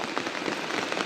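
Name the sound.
monsoon rain falling on adenium plants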